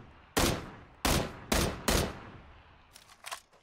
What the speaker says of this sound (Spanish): ¿Le disparo?